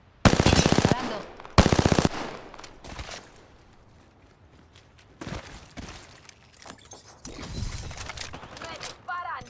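Rapid automatic gunfire from a shooter video game, two loud, dense bursts of roughly a second each near the start, followed by quieter scattered shots and game sounds.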